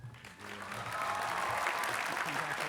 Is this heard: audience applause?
yes